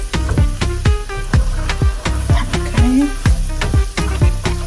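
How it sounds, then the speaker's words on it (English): A whisk works three tablespoons of flour into a mixture in a bowl, tapping and scraping in a quick steady rhythm with sharp clinks against the sides. A voice says a single brief word. "I'm going to whisk this"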